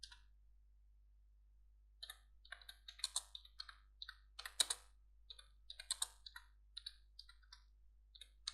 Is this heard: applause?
no